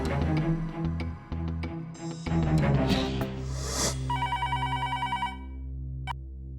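A landline telephone rings in a Hindi TV family drama, a fast, evenly repeated electronic bell lasting about two seconds. It follows a busy stretch of background music and effects, then stops abruptly.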